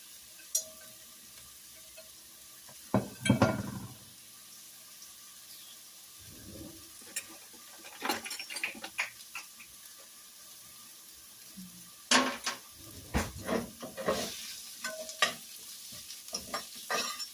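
Onion and cabbage fry in a pan while being stirred, with soft sizzling under scattered bursts of utensil scraping that grow busier toward the end.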